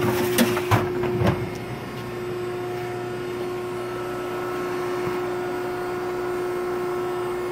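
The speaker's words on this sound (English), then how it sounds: "Spartan IW66D. We're just gonna run it here for you." A Spartan Marvel IW66D 66-ton hydraulic ironworker starts with a few sharp clunks, then runs with a steady hydraulic hum and drone close by.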